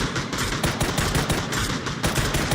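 Rapid automatic gunfire in the battle royale game PUBG, a dense continuous burst of shots with steady rhythm, loud and close with no talk.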